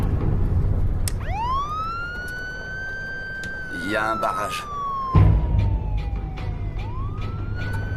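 A police car siren wails close by, rising and falling in long sweeping tones while vehicle engine noise rumbles underneath, with a voice speaking briefly over it.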